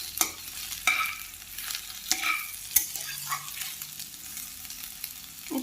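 Malabar spinach stalks fry in a pan with a quiet, steady sizzle broken by sharp scraping and clinking stirring strokes at irregular intervals, close up and without any voices.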